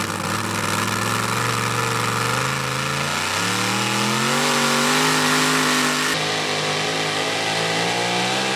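A pulling truck's engine at a truck and tractor pull in Lebanon roars at steady full volume, revving and climbing in pitch as the truck takes off down the track, loud and close throughout.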